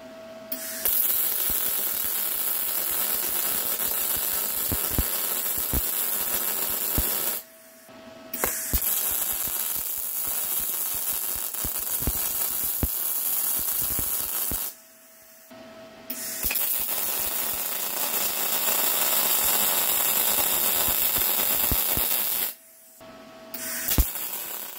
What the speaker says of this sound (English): we got the ForgeBurner welded into the top plate